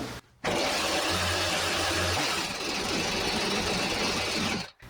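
A chainsaw's small engine roars at high, steady revs, loud and close, starting abruptly and cutting off near the end.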